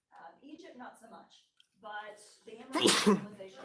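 A loud sneeze bursts out near the end, following a lecturer speaking about ancient civilizations, with the speech continuing around it.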